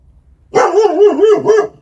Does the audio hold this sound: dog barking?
yes